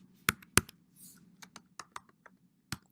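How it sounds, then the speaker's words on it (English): Java code being typed on a computer keyboard, with sharp isolated key clicks spaced irregularly across a few seconds, close and clear against a quiet background. "I'm going to type string"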